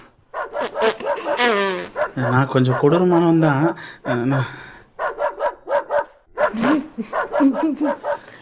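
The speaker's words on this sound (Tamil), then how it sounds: "நாய் அவுத்து விட்டுருக்காங்கம்மா" A six-month-old puppy barks and yips in short bursts amid a comedy scene, mixed in with someone talking loudly nearby.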